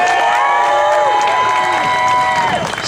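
A crowd at an outdoor marijuana march rally cheers and applauds after a song, with loud whoops and high shouts rising over continuous clapping, sustained and energetic throughout.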